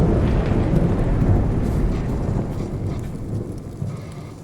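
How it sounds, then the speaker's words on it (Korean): Thunder in the horror video game In Silence: a loud, deep, rolling rumble swells, then slowly fades over several seconds with no voices. "적절한 타이밍에 천둥"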